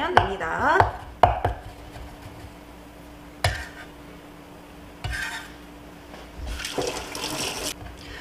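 Garlic being minced with a knife on a cutting board, heard as scattered sharp chopping knocks with quiet pauses between them and no talk.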